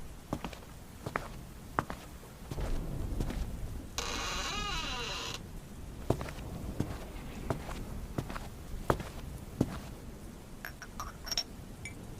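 Footsteps of someone walking to the kitchen indoors, a steady series of soft, close steps with a brief burst of noise partway through and no talking.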